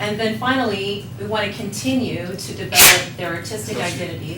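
A sharp, brief sneeze bursts out in the background while a person keeps speaking steadily.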